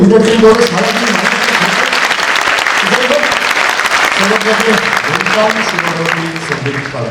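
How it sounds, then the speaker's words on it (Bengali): Audience at an annual convocation ceremony clapping loudly and continuously for an actor guest, dense sustained applause with voices mixed in. "আর এইটুকু হাততালি দিলে হবে"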